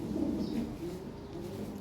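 Lahore pigeons cooing in a low, soft, continuous murmur of throaty coos, fairly close but quiet, with no talking.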